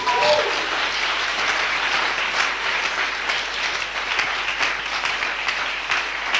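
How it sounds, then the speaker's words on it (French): Congregation clapping during a church service, a sustained round of many hands with irregular sharper claps standing out, steady in level throughout. "Or you can clap for God."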